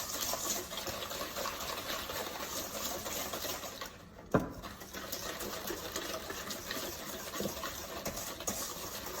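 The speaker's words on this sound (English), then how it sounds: "Now we're gonna mix these all together until we get a fluffy mixture." Egg yolks and refined sugar being beaten together in a bowl for pastry cream, a steady churning whir that runs almost throughout with a brief break midway, no talking.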